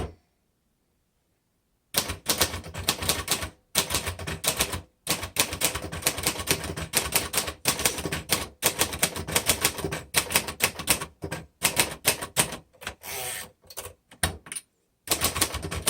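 Keys clatter on a 1958 Royal Futura 800 portable manual typewriter, rapid close strikes in bursts separated by short pauses, with silence at the start.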